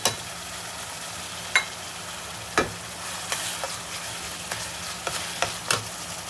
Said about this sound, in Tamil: இப்போ இந்த டர்மரிக் பவுடர் போட்டு கொஞ்சம் நல்லா வதக்கிக்கிறோம்.